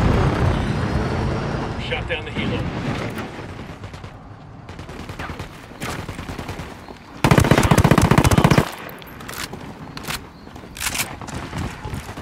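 Bursts of automatic gunfire in the video game Ghost Recon Wildlands, loud rattling volleys with one dense, heavy burst midway, over a busy game background with voices speaking.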